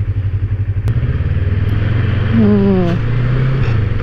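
A Yamaha MT-25 motorcycle idles steadily and then pulls away, its engine note rising briefly and levelling off nearby; a voice murmurs once.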